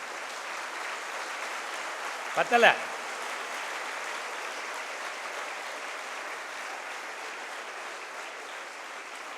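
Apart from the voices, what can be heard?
students applauding for their teachers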